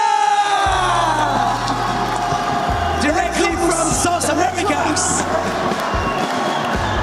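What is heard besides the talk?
crowd cheering and applauding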